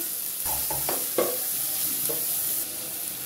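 Onions fry gently in a pan, softening under a steady close sizzle with a few short scraping stirs of a spatula.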